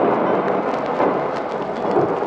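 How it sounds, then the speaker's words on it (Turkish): Rolling thunder with a dense wash of heavy rain fills an old Turkish film scene as a storm approaches, steady, loud and continuous, with no voices. "Eyvah! Yağmur geliyor!"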